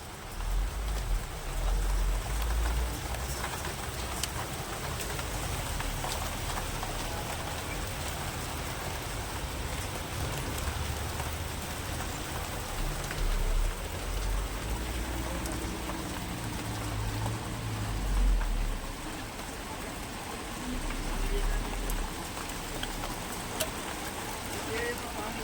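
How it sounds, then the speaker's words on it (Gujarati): Heavy rain pours down in Gondal, Saurashtra during the hot summer season, a steady broadband hiss continuing for the whole stretch, with low rumbles mixed in and someone talking over it. "અને વરસાદ જો કેવો મસ્ત પડે છે ભાઈ."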